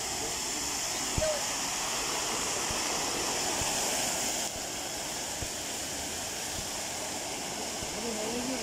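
A fountain on Krestovsky Island in Saint Petersburg sends a steady, even rush of falling water from start to finish, with faint background sounds.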